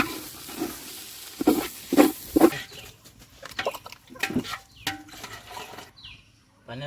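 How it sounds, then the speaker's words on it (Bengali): Rice is stirred and fried in a big pot over a wood fire, with a large spoon scraping and knocking in bursts over a steady sizzle, close and fairly loud, while chickens cluck in the background. "এই সেই কাজটাই করতেছে আমাদের রহিম ভাই সুন্দর করে লাড়ে চাড়ে একবারে ভাজতে হবে"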